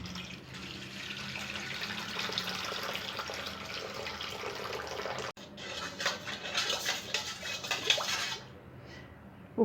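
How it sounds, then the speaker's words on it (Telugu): Cold water poured from a tap into a bowl of salt while making potato chips: a steady close rushing stream, a brief break, then a splashier, bubbling pour that cuts off near the end. "ఉప్పు వేసిన తర్వాత ఇందులో చల్లని వాటర్ వేసుకోవాలి."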